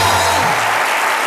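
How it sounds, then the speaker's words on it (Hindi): Studio audience applause on a Hindi TV comedy show set, a dense, steady wash of clapping at full loudness throughout, with no voices on top. "जोरदार तालियां बजती रहे।"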